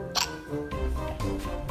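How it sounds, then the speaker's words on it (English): A child hiccups, with one sharp, close hiccup near the start followed by soft breathy sounds and faint background noise. "Uh-oh, you got the hiccups."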